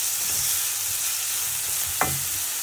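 Curry leaves with ginger, garlic and chilli paste sizzling in hot oil, a steady bright hiss with a single sharp utensil clink near the end.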